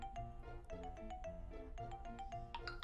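A loud mobile phone ringtone plays a repeating bright melodic pattern of tones in a steady rhythm, close and alone with no voices over it.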